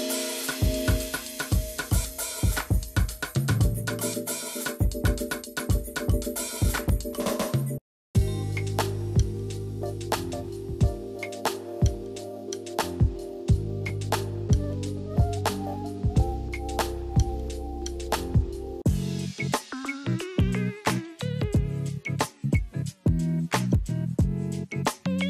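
A beat from the Rare Vibrations expansion for Maschine Mk3 plays tuned percussive hits and layered melodic tones in steady patterns, with a brief dropout near the middle and no speech.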